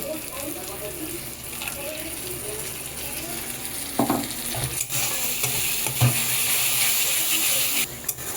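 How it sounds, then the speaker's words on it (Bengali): A soaked spice paste fries with onion and tomato gravy for a Bhola fish tel jhal, making a steady sizzle broken by scraping spatula strokes against the pan. "এইবার এই যে পেস্টটাকে ভিজিয়ে রেখেছিলাম আর টমেটো আর পেঁয়াজ সবগুলোকে ভালোভাবে একটু কষাবো"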